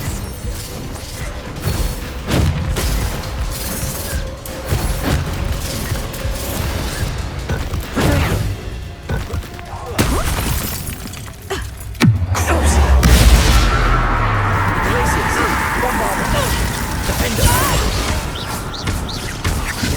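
Spell combat in Hogwarts Legacy: clattering mechanical hits, crashes and booms in rapid succession, followed by a deep rumbling blast that swells and lingers.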